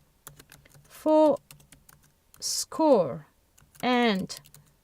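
Quick, quiet keyboard clicks tapping away in the background while a voice makes a few short, drawn-out sounds over them.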